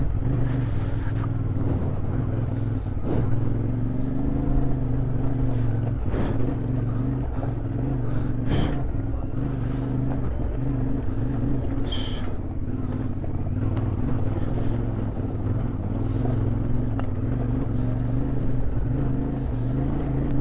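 A motorcycle rides off-road through a dried riverbed in the Atlas Mountains, its engine droning loud and steady throughout with a heavy low rumble, bumps and rattles over rough ground.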